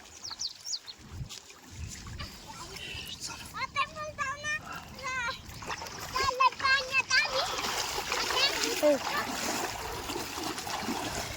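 Water splashes and pours steadily while someone talks over it, the sloshing growing busier toward the end.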